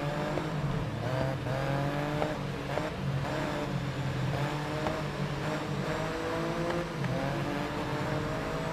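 Race cars in the GRID Legends open-wheel racing game roar steadily at high revs. Several engines pass and overlap, with repeated upshifts and downshifts across a constant loud drone and occasional tire squeal.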